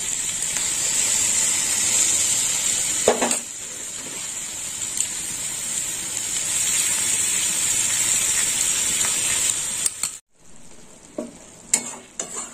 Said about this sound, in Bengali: দিয়ে দিলাম সর্ষে বাটা